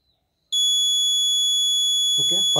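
An Arduino-based automatic school bell timer with a DS3231 real-time clock sounds its first bell, a loud, sustained high electronic tone that starts abruptly and holds steady, with a voice beginning to speak near the end.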